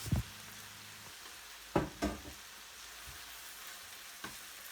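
Fried peppers sizzle softly in a pan, a faint and steady crackle broken by a few brief clinks or stirring knocks.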